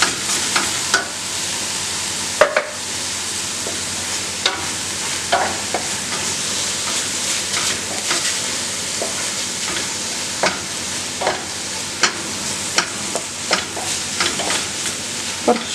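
Spicy beef curry is stirred in a hot pan, with a spatula scraping and knocking in irregular strokes over a continuous bright sizzle of frying, close and fairly loud.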